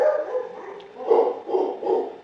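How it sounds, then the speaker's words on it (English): A dog barks nearby in three or four hoarse, muffled woofs over a couple of seconds, with no talking. "sorry for the barking"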